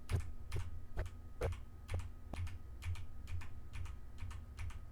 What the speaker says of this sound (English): when you hear like my keyboard